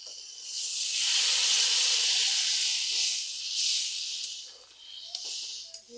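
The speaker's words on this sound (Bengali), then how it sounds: "এবার দিয়ে দিচ্ছি আমি গরম জল দিয়ে" Hot water hits a hot pan of boiled elephant foot yam mixed with spices, setting off a loud rushing hiss and sizzle that swells, holds for several seconds, then fades into softer crackling.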